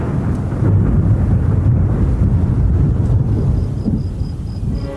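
Thunder rumbles continuously and loudly through a storm, a deep rolling roar mixed with rain and wind that holds for several seconds before easing slightly.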